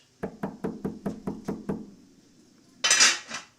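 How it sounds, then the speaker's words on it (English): Seven sharp, evenly spaced knocks rap on a door, loud and close, followed by a brief pause and then a bright clattering burst at the end. "Is you that a knock down me door now, man?"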